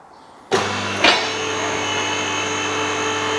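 A Twin Busch TWS3-10E two-post lift in a home garage switches on abruptly and raises a car, its electric hydraulic pump motor holding a loud, steady whine after a second brief surge.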